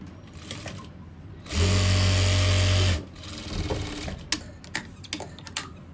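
A sewing machine stitches a boy's cord set in one loud, steady run of about a second and a half, set between quieter stretches of handling noise and small clicks.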